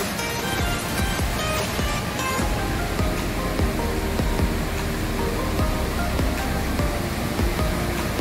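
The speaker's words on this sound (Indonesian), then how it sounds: "kita akan lihat air terjunnya. Air terjun Jembong." The Jembong waterfall in Ambengan village, Buleleng, Bali, rushes loudly as a steady, dense roar of falling water, continuous and close throughout, with no voices.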